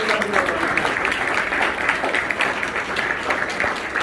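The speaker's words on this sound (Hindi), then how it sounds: "जोरदार तालियां बजाकर इसका सम्मान करें" Loud, steady applause from an audience at a school youth parliament event, a dense continuous roar of many hands clapping that carries evenly from start to finish, with some voices mixed in.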